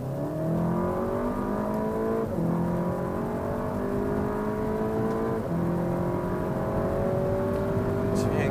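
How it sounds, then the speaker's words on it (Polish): SEAT Leon Cupra ST 280 DSG engine pulling hard at full throttle at high speed, a steady rising whine that climbs through gears, dipping briefly at each quick shift, heard from inside the car with no talk. "silnik auta nie jest jakiś bardzo głośny, mógłby być wyraźniejszy"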